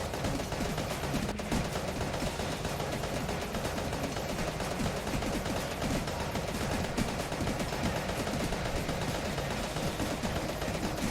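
Shotguns fire nonstop at walls in the video game Enter the Gungeon, a dense and constant burst of loud blasts with no break and no talking.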